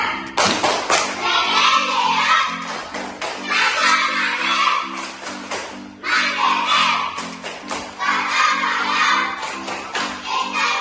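An elementary school class performs a rhythmic clapping chant, with children's voices and sharp hand claps and thumps repeating in a patterned beat, then pausing briefly before starting again.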